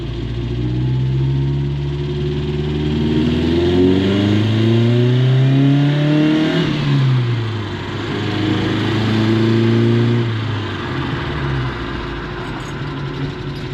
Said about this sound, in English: just accelerate and see if the car pulls anywhere